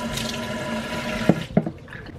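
Water runs from a tap into a sink while washing the face, a steady splashing trickle with a couple of sharper drips or splashes near the end.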